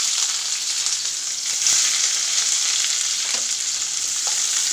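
Onions sizzle and fry steadily in hot oil seasoned with cinnamon for a white chickpea curry, a close, continuous crackling hiss with occasional stirring and no talk.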